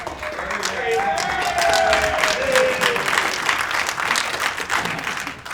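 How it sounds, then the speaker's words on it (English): Members at a Sierra Club general meeting in Dallas give a warm round of applause, a steady bed of clapping from a roomful of people with a few voices talking and calling out over it. "let's give him a round of applause"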